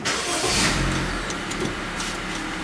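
Engine of a Honda BR-V 2022 Prestige starting up, a brief cranking surge that settles into a steady idle hum, close and fairly loud, no voices.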